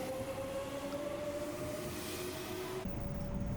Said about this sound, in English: We'll take the next rapid train.